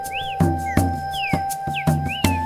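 Streaked saltator song in an Andean forest: a clear whistled phrase rising then briefly falling, repeated three or four times at an unhurried pace over steady tonal hums and periodic louder thumps.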